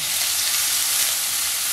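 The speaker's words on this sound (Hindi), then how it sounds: "इनको हल्का सा फ्राई करेंगे।" Onion with ginger-garlic paste frying in a pan, a steady close sizzle with a soft crackle running throughout, no voices.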